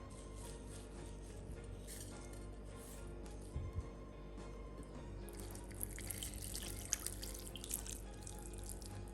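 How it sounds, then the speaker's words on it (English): Water runs steadily from a tap into a pot for a meat brine, a continuous faint splashing and trickling with occasional clinks, no talking. "Now we've got to add water and salt to it"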